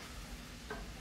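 Mushrooms fry in a large non-stick frying pan, giving a soft, steady sizzle with a brief stirring scrape, heard close and quiet.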